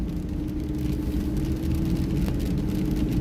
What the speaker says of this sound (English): It just sounds like a squeaky belt.